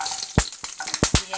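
Cumin seeds, thinly sliced green chili and garlic cloves hitting hot oil, a close crackling sizzle broken by several sharp spitting bursts and stirring scrapes over about a second.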